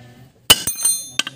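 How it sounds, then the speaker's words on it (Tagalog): A car's center post bushing is struck on its side with sharp metallic taps: one strong hit, a quick follow-up, a softer ringing tap and then a final pair of clinks. "pukpukin ito sa gilid."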